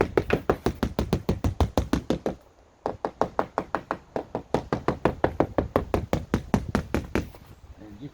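Rapid, evenly spaced knocks on a boat hull during a marine survey, a close series of dull taps in quick rhythm with a short pause partway, then resuming at the same pace.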